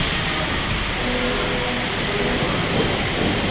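A steady, broad mechanical rumble with a faint resonant hum from nylon wheels, continuous and fairly loud, a roller coaster rolling along its track at Parc Astérix with no voices.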